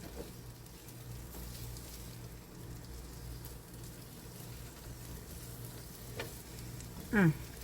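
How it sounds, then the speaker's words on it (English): Soft, steady sizzling of poblano pepper strips frying in a pan, quiet and continuous, with a brief clatter near the end. "I can see and hear it sizzling just a teeny little bit."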